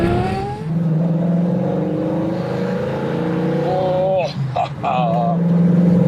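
A car accelerating hard at full throttle: a loud, close engine note climbs steadily in pitch, with a brief shift-like dip near the end before it pulls again. A voice talks over it.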